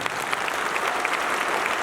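A large crowd at a network marketing business event applauds loudly, a dense unbroken wash of clapping throughout.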